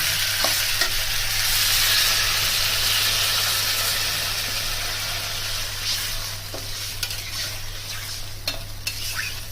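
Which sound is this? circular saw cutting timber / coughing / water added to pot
water added to pot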